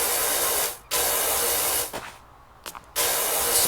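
Loud hissing sprays burst out in long close blasts with brief pauses and short puffs between them, like an aerosol can being sprayed in repeated bursts.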